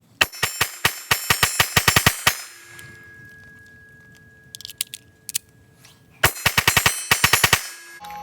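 Rapid pistol shots from a Springfield Hellcat, a fast string of about ten sharp, loud reports, a pause with faint clinks, then another quick burst of close gunfire.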